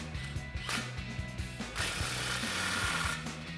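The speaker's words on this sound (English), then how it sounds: "take a 15mm socket to tighten down your clamp" A 15mm socket ratchet tightens an exhaust muffler clamp on a Tacoma, giving a steady run of rapid pawl clicks in short bursts with brief pauses, close and fairly loud, with no talk.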